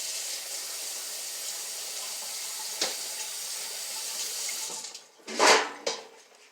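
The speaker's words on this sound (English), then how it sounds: "I'm going to give my hands a quick rinse again" Running tap water streams steadily into a kitchen sink as hands are rinsed, a continuous close hiss for about five seconds that breaks into a few louder splashes near the end.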